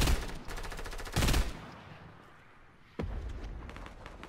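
Gunfire in Fortnite: rapid automatic bursts, one louder and closer, then a pause before another steady stream of quick shots resumes.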